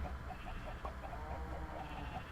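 Cows in the Minecraft video game crowding around the player for wheat, several short low moos and bleat-like calls repeating in quick succession, faint and overlapping, with no talk.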